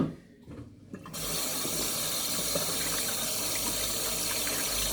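Celery stalks are washed under a running kitchen tap; after a brief quiet start, the water gushes steadily and loudly into the sink.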